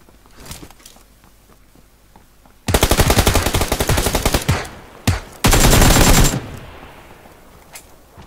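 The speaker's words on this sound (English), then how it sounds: "Someone is shooting." Automatic weapon fire in PUBG Lite comes in two loud, sustained bursts after a quieter stretch of soft background rustle and steps, with a brief crack between the bursts.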